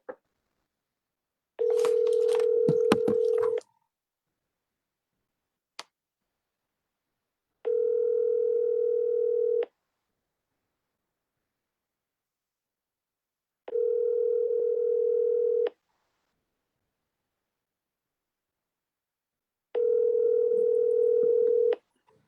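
A telephone call is placed: a brief burst of dialing noise, then a steady ringback tone repeating four times in long, evenly spaced pulses separated by silence, with no one speaking.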